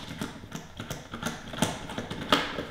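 Small screws being driven in by hand on Corvette C7 spark plug wire boots: a run of light clicking, ratcheting taps at a steady pace, close up and quiet, with no talking.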